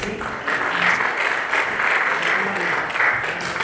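At a formal signing ceremony, an audience claps in a big round of applause, a short, loud and dense burst of hand-clapping close by, pulsing slightly in strength over a few seconds.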